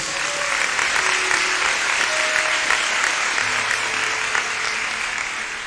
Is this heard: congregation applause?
yes